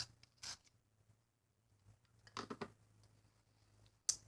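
A white Prismacolor colored pencil is sharpened, giving a few quiet, brief scraping and grinding bursts separated by near-silent pauses, with no talking.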